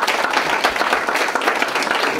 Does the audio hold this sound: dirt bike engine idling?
no